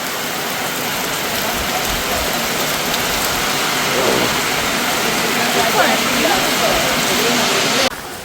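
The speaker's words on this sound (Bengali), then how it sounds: "আর এখানে ভরপুর বৃষ্টি শুরু হয়েছে।" Heavy rain pours down steadily in a dense, loud hiss that fills the space at a beach resort, continuous for several seconds before dropping off abruptly at the end.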